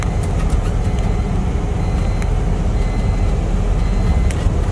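An Ashok Leyland 2825 tipper dump truck drives along a Kerala road, its heavy diesel engine giving a steady, loud low rumble with broadband road and wind noise throughout and no talk.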